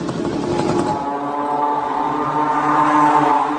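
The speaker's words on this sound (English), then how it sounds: "This is a small moped engine or scooter engine sourced from China at a cheap price." A cheap small Chinese moped engine idles with a steady buzzing drone, loud and close, its pitch shifting slightly as it runs continuously.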